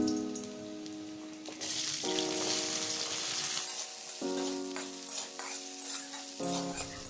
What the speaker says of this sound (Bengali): এবার ওই তেলে কেটে ধুয়ে রাখা আলুগুলি ভেজে নেব।